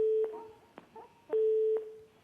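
A telephone ringing tone during a prank call to a government ministry: two long, steady beeps separated by a pause, fairly quiet, with no talking.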